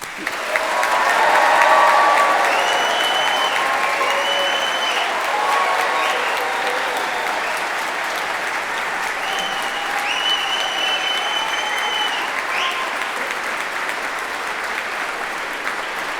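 Audience applauding graduates at a formal ceremony, a long dense wash of clapping from a large crowd that swells early and then holds steady, with occasional cheers.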